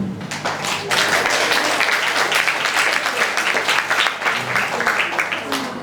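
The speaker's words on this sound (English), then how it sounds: "And can everyone clap for them?" Audience clapping for two students called up at a Korean school's Halloween event in Singapore, sustained, lively applause from a large group of hands, with some voices mixed in.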